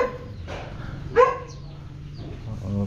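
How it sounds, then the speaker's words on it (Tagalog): A dog gives a short bark close by at a construction project site, with a few faint yips and whimpers around it. "May mga aso."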